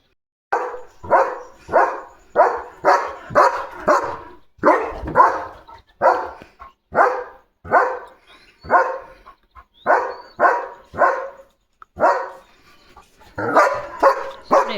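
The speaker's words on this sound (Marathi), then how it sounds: "कुणाला पण भुंकतो" A German Shepherd in guard mode barks loudly and close, firing off about twenty sharp barks in an uneven rhythm with short pauses between bursts, alone without talk.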